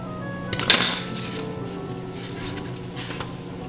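A bowl and fork are picked up in a kitchen, giving one bright ceramic-and-metal clink near the start, followed by a few soft knocks against a quiet, humming room.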